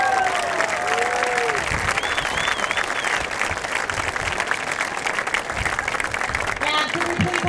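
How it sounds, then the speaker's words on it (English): Crowd applauding the 2014 homecoming court at a high school football game between Santa Fe Christian and Horizon Christian, steady outdoor clapping with some cheering, moderately loud and continuous from start to end. "can we please have one more round of applause for Aaron and Max as they take their lap in"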